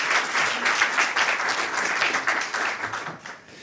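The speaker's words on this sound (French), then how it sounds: "c'est eux qui peuvent applaudir." Audience at a medical conference applauding steadily, a dense crowd of clapping hands sustained for several seconds before tapering slightly at the end.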